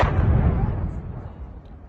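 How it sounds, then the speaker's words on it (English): A Shahed drone strikes a port and detonates in one deep, bass-heavy explosion that booms loud at once, then rolls and fades over about two seconds with no talk. "That was a very bassy explosion."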